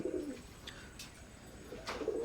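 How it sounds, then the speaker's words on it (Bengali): A pair of adult Oman bloodline teddy pigeons coo softly in a few low, throaty phrases, close by and quiet, with faint background noise. "ওমান ব্লাড লাইনের নিউ অ্যাডাল্ট এক জোড়া কবুতর"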